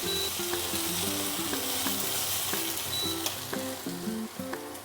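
Spices sizzle and crackle in hot oil while frying for rui fish kalia, a dense steady hiss with repeated sharp scraping knocks from stirring, close and alone.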